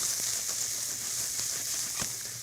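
Portobello, shiitake and oyster mushrooms sizzle steadily in a pan, a continuous close frying hiss with a few soft stirring scrapes, no talking.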